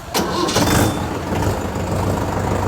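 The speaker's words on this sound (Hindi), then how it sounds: "चलिए अब हम ट्रैक्टर को स्टार्ट करते हैं" A Mahindra Yuvo Tech+ tractor engine cranks and catches, then settles into a loud, steady rumbling idle close by.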